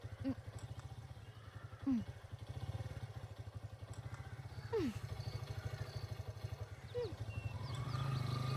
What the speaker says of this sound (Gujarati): અરે બાઇક ચાલુ થઈ ગઈ